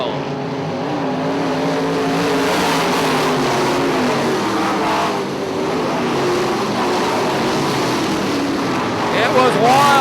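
IMCA modified race cars roar around Ionia Raceway Park during a wheel-to-wheel battle, a loud continuous engine drone rising and falling as they pass, with an announcer talking over the racing throughout.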